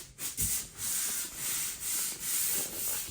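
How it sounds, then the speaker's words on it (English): Rhythmic abrasive scraping of a pole sander being pushed back and forth across a surface, steady strokes about every half second, close and fairly quiet. "let me just finish sanding this down"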